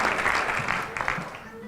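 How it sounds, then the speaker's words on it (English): Applause fills the hall at a charity gala dinner after a £5,000 auction pledge, a dense continuous wash of many hands clapping at moderate volume, with voices mixed in underneath. "Massive round of applause."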